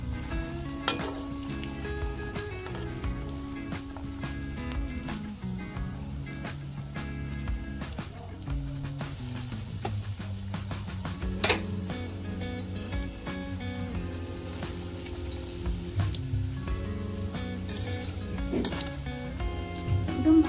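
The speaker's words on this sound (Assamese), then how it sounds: "আৰু মোৰ তেলখিনি গৰম হৈ গ'ল এগ ললিপপটো মই এতিয়া দি দিছোঁ" Egg lollipops coated in breadcrumbs fry in hot oil over a low flame, a steady dense sizzle and bubbling crackle running throughout with no voices.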